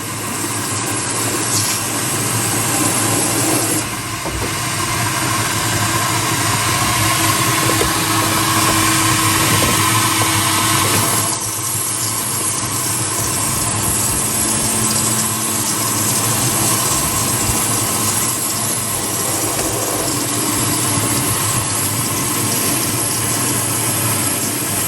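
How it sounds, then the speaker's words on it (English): A loud, continuous hiss and motor drone of a pressure washer runs steadily throughout, with slight shifts in tone as the spray moves. "Get the old jet wash out, you have to excuse the noise"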